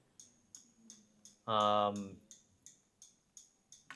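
Clock ticks open a song intro, crisp, evenly spaced clicks roughly every third of a second, briefly interrupted by a short, loud, resonant tone before the steady ticking resumes.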